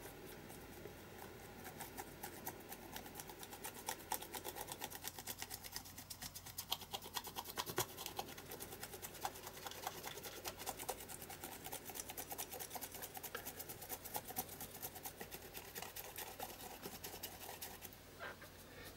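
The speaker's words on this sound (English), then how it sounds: "just lightly going over the raised areas with that dry brush in action" Dry brush rubbing wax over the raised areas of a small mixed media canvas, giving a soft, continuous scratchy rasping with quick irregular strokes, close and fairly quiet, no talking.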